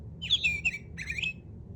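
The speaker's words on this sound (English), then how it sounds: "The sparrow likes to sing." A sparrow sings two bright, quick chirping phrases in a farm setting, fairly close and clear over a low background hum.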